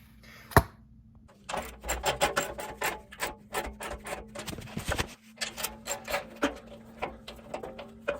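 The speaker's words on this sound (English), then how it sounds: "for these bolts, I am using a 13mm socket wrench" A 13mm ratcheting socket wrench tightens running board bolts on a Rivian R1T pickup, rapid clicking ratchet strokes in bursts, close and loud, after a single sharp knock.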